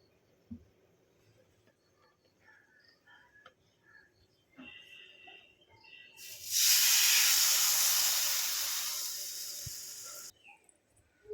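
Tandoori naan cooks in a hot pan. After quiet clinks and handling, a loud hiss swells for about four seconds, then cuts off.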